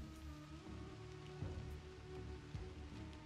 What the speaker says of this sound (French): C'est déjà la pluie.